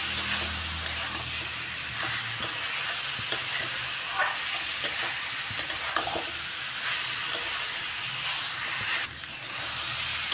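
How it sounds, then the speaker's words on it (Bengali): Soybean, potato and egg being stirred with spices in a frying pan, giving a continuous hissing sizzle with repeated scraping strokes and light taps of a spoon throughout, no talking. "ভালো করে মিশিয়ে নেবো এবার মশলার সাথে"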